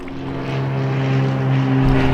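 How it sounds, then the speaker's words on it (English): Seaplane propeller engine drones steadily over Lake Union in Seattle, a continuous buzzing hum with strong tonal whine that grows slightly louder as the aircraft passes nearby. "Lake Union is actually a runway used for seaplanes."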